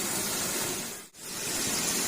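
About a litre of water goes into a Pakistani aloo gosht (meat and potato curry) after the masala has been fried until the oil separates. It makes a loud, steady sizzling hiss that briefly drops away midway, then surges back.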